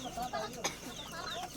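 Chickens cluck in short bursts nearby, fairly faint, with a brief sharper call in the middle.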